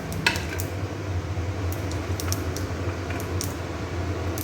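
Mustard seeds splutter in hot oil in a pan during tempering, giving a steady sizzle with scattered sharp pops and crackles, close and fairly loud, with no talking.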